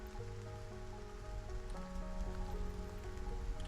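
Steady rain falls in the video game Stranded: Alien Dawn, an even, close hiss of drops pattering on surfaces throughout, with no voices.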